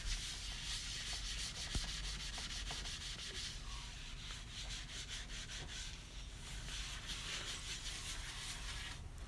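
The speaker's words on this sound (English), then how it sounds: "Now I'm going to use some elbow grease and scrub away." A scrubby pad loaded with Dawn dish soap scrubs a stained glass stove top with steady, quiet back-and-forth rubbing strokes that run without a break and without speech.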